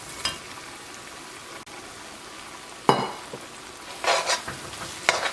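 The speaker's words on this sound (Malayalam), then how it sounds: "ഇതിലേക്ക് വറുത്ത് വെച്ചേക്കുന്ന മീൻ ചേർക്കാം." Fried sardines stirred into hot vinegar in a pan while making Kerala sardine pickle: quiet scraping stirs and brief bursts of sizzling, spaced irregularly over a low background hiss, with no talking.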